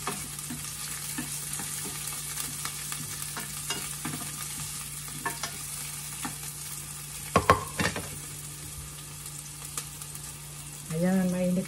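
Garlic and onions sauté in a hot pan with a steady, even sizzle, broken by occasional light clicks and scrapes of stirring near the end.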